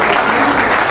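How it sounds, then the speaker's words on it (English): A short burst of thick, continuous audience applause at an academic conference in Japan, loud and close, heard alone for under a second. "a big round of applause I must give to her"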